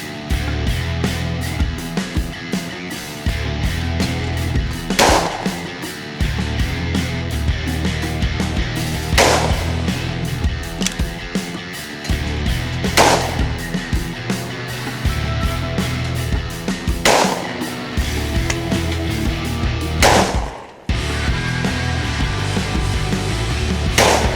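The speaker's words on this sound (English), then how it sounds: "God damn, I shoot this gun well." A Rizzini BR240 Cole Special sub-gauge shotgun fired at a sporting clays range, five sharp, loud reports spaced roughly four seconds apart over steady outdoor background noise, with no talking.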